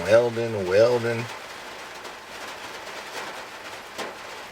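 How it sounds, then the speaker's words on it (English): A brief voice gives way to a steady, soft hiss of rain falling, continuous and even, with faint patters throughout. "Sitting out here, listening to the rain."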